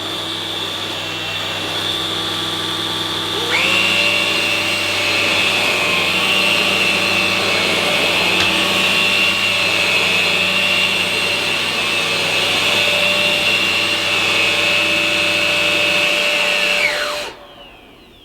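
A Henry Quick corded vacuum cleaner runs on low power with a steady whirring motor whine. It spins up to a stable pitch, holds for over ten seconds nearby, then shuts off and winds down.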